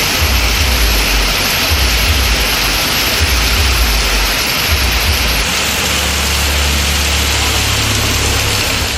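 Heavy rain pours steadily in Tamil Nadu, a loud, dense, unbroken hiss, with a low rumbling hum underneath throughout.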